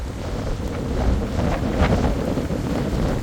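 Heavy wind buffets the microphone in a loud, steady low rumble with gusty swells, with no voices.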